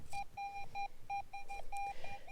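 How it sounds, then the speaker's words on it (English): A metal detector gives a run of clear, regular electronic beeps over a shallow target at an 1800s relic site, close and crisp against faint outdoor background. "this is a nice sounding and fairly shallow target"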